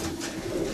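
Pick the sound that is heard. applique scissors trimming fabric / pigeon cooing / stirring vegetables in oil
pigeon cooing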